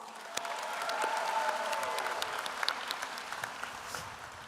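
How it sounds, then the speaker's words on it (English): Applause from the audience at a Victor Valley College commencement, a continuous patter of many hands clapping, somewhat distant and moderate in level, with a few faint cheers. "I would like to give them all a round of applause."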